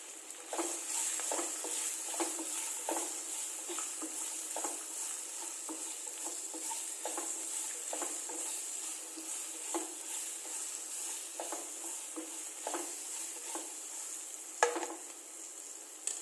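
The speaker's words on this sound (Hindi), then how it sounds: "जो प्याज स्लाइस काटते हैं उनको भी मैंने 2 मिनट के लिए ऐसे फ्राई कर देंगे" Sliced onions and chopped green chillies fry in hot oil in a pan for a Manchurian gravy, with a steady sizzle and repeated close scraping and stirring strokes throughout.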